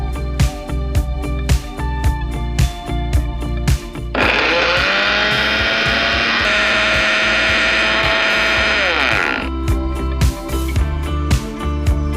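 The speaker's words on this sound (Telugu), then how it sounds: "ఒక్కసారి మిక్సీ ఆన్ చేస్తే చాలు, మొత్తం అంతా పౌడర్లో అయిపోతుంది కదా." A kitchen mixer grinder whirs loudly for about five seconds, pulverising bread pieces into powder, its steady high motor whine starting and stopping abruptly amid surrounding clicks and handling noises.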